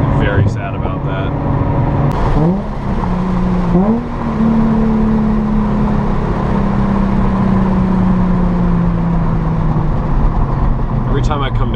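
Nissan 350Z Nismo engine close up on an in-car drive, droning loud and steady, its pitch climbing in two quick rises as gears are rowed and then easing down in one long sustained pull.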